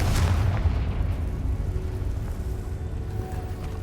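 A Confringo explosive spell goes off in Hogwarts Legacy, a deep booming blast that rumbles and slowly fades, with a brief crackle near its start.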